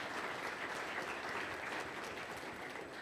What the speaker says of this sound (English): please, a big hand of applause for my panelists